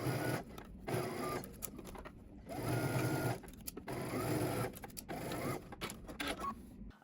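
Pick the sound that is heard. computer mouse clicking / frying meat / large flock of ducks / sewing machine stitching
sewing machine stitching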